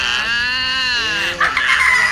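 Fans at a launch event for a new Thai series shriek in a loud, sustained, high-pitched crowd scream that wavers for about two seconds, then surges again near the end.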